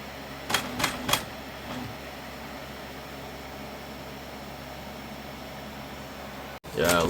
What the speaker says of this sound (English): It's going to do another purge. Let's see if it cleans itself on the little nozzle wiper.